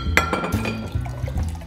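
Glass clinks as Cointreau is splashed into a cocktail glass, a few bright close taps with faint liquid sounds over a low steady background hum.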